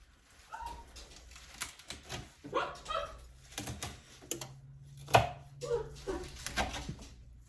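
Kale leaves being chopped on a board for Zuppa Toscana, quiet irregular knife taps in uneven bursts close by, with faint background noise and no clear talking.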